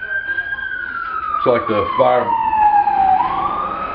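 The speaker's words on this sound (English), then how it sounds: "fire safety guys are driving by" A fire truck siren wails past as the truck drives by, a loud descending tone sweeping down and then rising slightly, with a brief honk-like burst in the middle and a person speaking over it.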